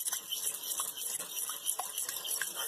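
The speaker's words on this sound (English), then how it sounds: "fork, we just whisk that together" A fork whisks egg yolks in a dish for moussaka, a steady run of light, soft scraping and tapping strokes close by, with faint hiss in the background.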